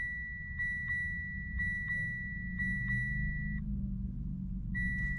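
Dashboard maintenance warning chime in a Mitsubishi Montero Sport, a series of evenly spaced high electronic beeps repeating about once per second over a steady low engine hum inside the cabin.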